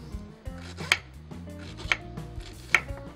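A knife cuts fruit into slices on a board, making three distinct crisp chops about a second apart, with softer cutting noises between them, close and clear with no speech.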